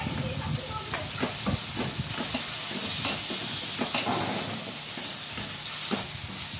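Curry leaves sizzling and crackling in hot oil with green chilies and tomato for sundakai thokku, a steady loud frying hiss with sharp pops and stirring scrapes throughout.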